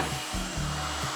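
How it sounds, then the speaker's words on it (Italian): Vacuum cleaner left running during a tabletop restoration, a steady loud whooshing drone with a faint pulsing hum, heard alone with no speech. "il mio aspirapolvere è ancora acceso"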